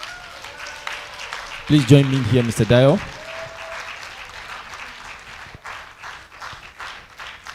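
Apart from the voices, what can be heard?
audience applause and clapping at seminar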